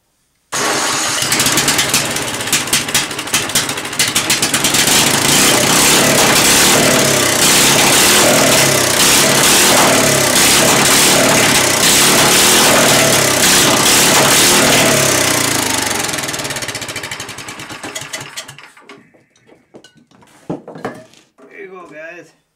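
A Sears Hydro Trac tractor engine with no muffler roars loudly and steadily at close range for about eighteen seconds, with rattling metallic clatter, then shuts down and quiet clicks and handling sounds follow.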